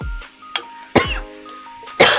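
Someone eating green-chili honey ginger chicken clears their throat and coughs, three or four sharp bursts spaced apart at close range.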